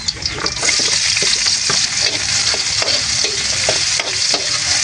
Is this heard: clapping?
no